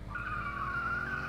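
A car brakes hard and skids in The Long Drive video game, a sustained high tyre squeal over a low engine rumble, loud and close for just over a second.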